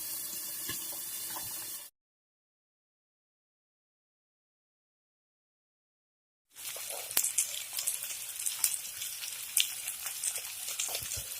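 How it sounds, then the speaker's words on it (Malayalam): Fish masala paste sautéing in a pan sizzles with a steady, bright frying hiss, broken by a few seconds of complete silence before the sizzling resumes with small crackles and stirring clicks. "ഇത് നന്നായിട്ട് പേസ്റ്റ് പരുവത്തിലാവണം കേട്ടോ. നന്നായിട്ട് വഴറ്റുക."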